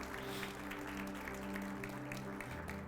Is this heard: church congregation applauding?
yes